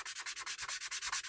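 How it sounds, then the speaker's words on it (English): Scratches are polished out by rubbing in the direction of the original polish, a quick, regular back-and-forth scrubbing with about a dozen even strokes, close and fairly soft. "you're polishing in the same direction as it was originally polished"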